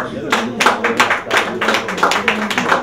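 Brisk applause from a crowd at a Christian album launch, a steady run of overlapping claps with a few louder bursts, close and lively, with a faint voice underneath.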